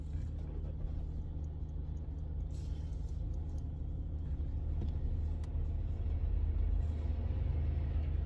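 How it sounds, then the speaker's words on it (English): A big truck rolls past on a road, its deep engine rumble steady and loud throughout, with faint brake hiss and road noise layered over the low drone. "that's a big old truck, y'all"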